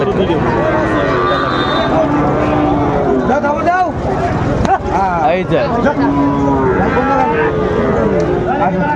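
Sahiwal bull calves moo repeatedly at close range amid a noisy cattle market crowd in Dhaka, with several long, loud lowing calls overlapping the chatter.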